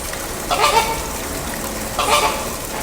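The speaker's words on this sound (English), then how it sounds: "There's the mountain duck." A mountain duck gives two loud, honking calls about a second and a half apart, near and clear over a faint outdoor hiss.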